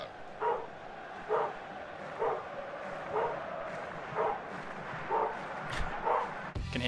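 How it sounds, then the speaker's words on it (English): Dogs bark repeatedly through an online voice chat connection during a FIFA 15 match, roughly seven short yaps spaced about once a second, compressed and moderately faint as heard over the line, with no talking over them. "Can hear Dave's dogs for his connect"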